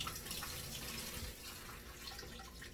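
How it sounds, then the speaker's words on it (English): Tap water runs into a sink while kelp noodles are rinsed, a soft, continuous splashing stream, fairly quiet and steady without any talking. "I'm gonna rinse them off and put them back in fresh water"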